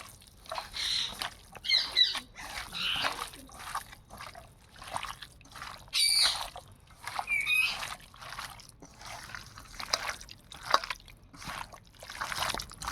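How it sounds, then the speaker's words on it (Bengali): Hands mixing fish paturi ingredients with mustard oil and spices, producing soft, intermittent wet squelches and sloshing pats at a quiet, close level in irregular bursts. "এবার সব উপকরণগুলো একসঙ্গে মাখিয়ে নেব"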